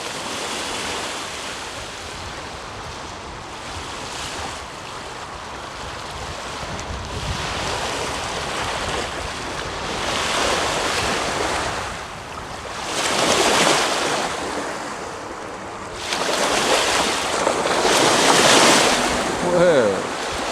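Surf rolling onto a dark beach at night beside the historic 1922 Sunnyside Bathing Pavilion, waves swelling and washing in at a slow rhythm, with wind buffeting the microphone and a voice speaking at times.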